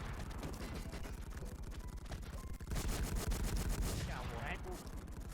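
Dense, rapid gunfire rattles continuously in a fantasy shooting video game during a capture-point match, loud bursts overlapping throughout with a short heavier volley in the middle.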